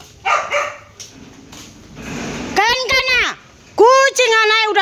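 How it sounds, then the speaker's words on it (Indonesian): A dog barks close by, several sharp yelping barks in two bursts, mixed with people talking in Indonesian and faint background noise. "Apa yang gonggongan?"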